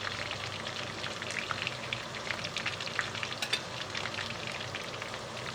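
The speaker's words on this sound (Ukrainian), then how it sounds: "Шматочки зарум'янилися, а в каструлі чути приємний шкваркіт." Pork belly pieces sizzle steadily as they fry in their own rendered fat in a pot, a dense, continuous crackle with scattered sharper pops, close and fairly loud, with no voices.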